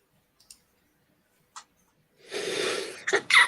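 A single sharp sneeze-like burst, close by, with a couple of faint clicks before it and short breathy bursts after.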